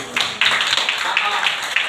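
A group of students claps in a quick, steady rhythm for about two seconds at a school leadership training session, with faint voices mixed in.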